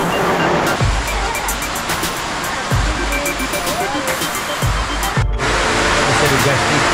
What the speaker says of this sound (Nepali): बाहिर झन् पानी पर्यो